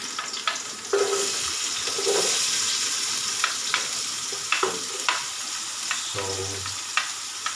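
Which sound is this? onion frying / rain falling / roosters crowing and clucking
onion frying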